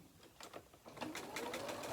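A domestic sewing machine stitches quilt fabric pieces together with their right sides facing, a steady fast rapping that builds in the second half, close and fairly quiet with no voices.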